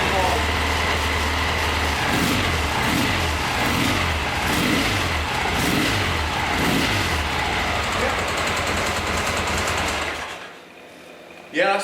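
A Triumph Bonneville T140 motorcycle engine runs close and loud after a valve clearance adjustment, blipped in several rhythmic revs before it cuts off and falls silent near the end.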